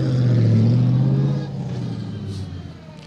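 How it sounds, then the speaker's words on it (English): An Aston Martin V8 Prodrive rally GT car roars past on an asphalt rally stage, the deep engine note loud at first and then fading as it moves away. "the sound of an Aston Martin V8 ProDrive one, no less"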